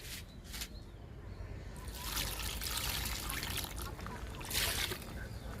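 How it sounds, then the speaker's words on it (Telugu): Liquid is poured onto a potted fig plant, a steady trickling splash of water-like fluid that swells in two brief bursts, close and moderately quiet, with no one talking. "అంజీరా మొక్కకి ఇచ్చేద్దాము లిక్విడ్ని"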